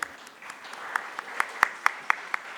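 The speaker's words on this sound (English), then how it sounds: "A round of applause for our speakers" A sparse round of clapping at a real estate conclave, faint and fairly distant, with separate claps at an uneven rhythm that grow a little more frequent toward the end.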